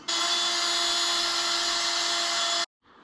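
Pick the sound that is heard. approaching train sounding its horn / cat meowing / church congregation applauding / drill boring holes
drill boring holes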